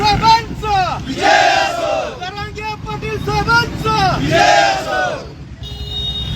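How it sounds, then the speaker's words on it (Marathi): A large Maratha community crowd celebrating Kunbi reservation in Bhum, loud rhythmic chanting and cheering in repeated waves from many voices, close and dense, fading near the end. "अतिशय मोठ्या प्रमाणात जल्लोष साजरा झालेला आहे"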